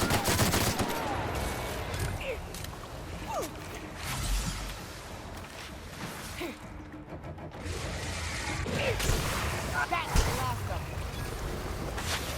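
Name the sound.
gunfire in the video game The Outer Worlds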